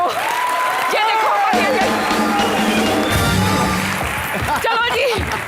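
Studio audience applause on a comedy show, sustained loud clapping and cheering filling the room, with voices and whoops rising over it.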